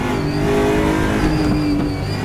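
An ESR Aquila race car lapping Monza blips on and off the throttle, a loud, close engine wail with pitch that rises and dips in quick succession over steady track noise.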